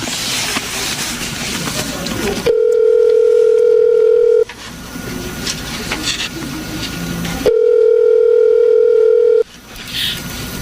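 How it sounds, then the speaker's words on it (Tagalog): Two long steady tones from a cellphone placed on a call, each lasting about two seconds, separated by quieter background hiss; the tone is loud, clean and alone. "Tatawagan ko siya gamit yung cellphone ko."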